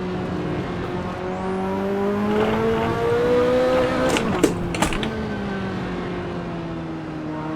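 In the Assetto Corsa racing game, a Ferrari F40 engine holds a steady high-pitched drone that climbs slowly, with brief sharp interruptions as it bounces off the rev limiter before settling back to a continuous whine.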